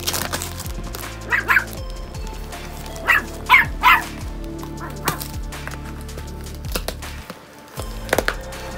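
A dog barks in several short, sharp bursts close by while a parcel is being opened indoors, with quieter yips and whimpers between the barks.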